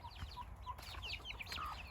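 Several hens, including Silkie, Marans and bantam breeds, clucking and chattering close by, with short overlapping calls over a low background rumble.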